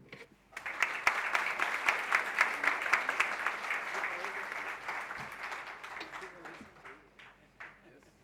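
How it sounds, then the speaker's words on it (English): Sustained audience applause fills a hall after a keynote address at Universal Oneness Day 2013. It swells quickly, holds steady with sharp individual claps, then gradually thins out. "I'm sure we should have another round of applause for this great keynote address."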